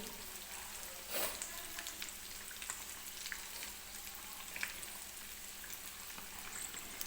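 Samosas deep-frying in hot oil: a steady, close crackling sizzle with scattered pops and a brief louder burst early on, no talking.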